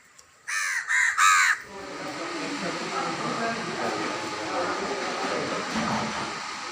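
Three loud crow caws in quick succession up close, followed by a steady low rumble of background noise.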